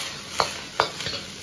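Coriander stems tossed in hot oil in a wok, with a few sharp scraping stir strokes at a steady pace over a soft, continuous sizzle, close and moderately loud.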